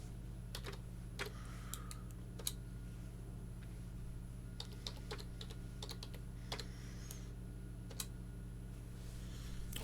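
Steady typing on a computer keyboard while setting up Mosquitto TLS certificates, with scattered key clicks at an irregular rhythm over a constant low hum, near and fairly quiet.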